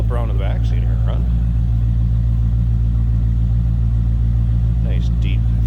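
Deep, steady idle of a 1986 Chevrolet Corvette convertible's 5.7-liter 350 TPI V8, a constant close low rumble running throughout, with brief bits of someone talking near the start and again toward the end.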